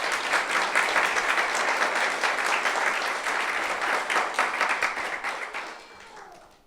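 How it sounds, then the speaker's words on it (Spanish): A conference audience applauds steadily for several seconds, dense clapping that gradually thins and fades out at the end. "¿Qué tal si les damos un aplauso a los hermanos?"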